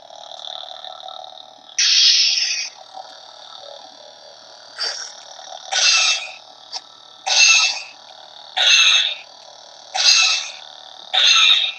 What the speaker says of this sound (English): His blaster effect is the same as mine now.